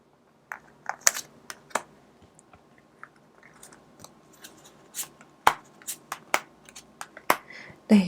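Tarot cards shuffled and handled up close, a sparse run of crisp clicks, snaps and riffles scattered across a quiet background, with no talking.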